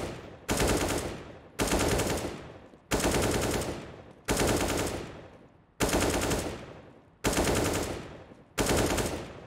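CS:GO gunfire landing headshots in bursts: seven loud, sharp blasts spaced about every 1.3 seconds, each ringing and fading before the next, no voices over them.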